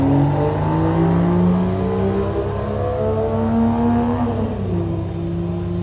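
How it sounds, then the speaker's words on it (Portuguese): A sports car's engine rumbles steadily at the Interlagos racetrack, a close, loud, deep idle with a smooth droning tone that dips slightly in pitch near the end. "Vocês têm que ouvir o ronco desse carro."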